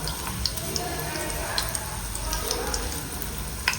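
Fenugreek leaves frying in hot oil produce a continuous crackling sizzle with small pops, close and fairly loud and steady across the whole stretch.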